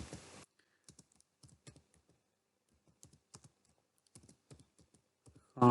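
Keys clicking on a computer keyboard in short bursts of typing separated by pauses, close and fairly quiet, with no voices.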